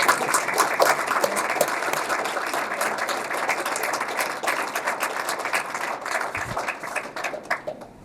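Steady round of applause from an audience at a physician advocacy press conference in Nebraska, dense overlapping claps holding for about eight seconds before thinning slightly near the end.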